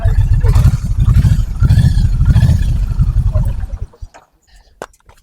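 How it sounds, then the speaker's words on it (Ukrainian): A Kawasaki Vulcan 1600 Mean Streak motorcycle engine runs with a loud, low, lumpy throb for about four seconds, then drops away to quiet clicks and faint noise. "Корзина працює тихенько взагалі не відчувається ніякого зміни в роботі двигуна."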